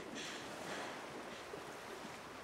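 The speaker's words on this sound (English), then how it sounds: "A jet ski in the middle of the ocean!" A jet ski out on the open ocean, with a steady wash of waves and rushing wind noise filling the whole stretch, close and fairly even with no voices.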